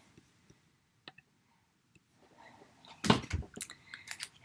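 Sparse faint clicks from a card-making craft session, scattered quietly before a louder cluster of clicking and rustling near the end.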